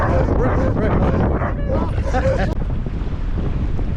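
Heavy wind buffets the microphone at a campsite in a steady low roar, with muffled voices and movement underneath throughout.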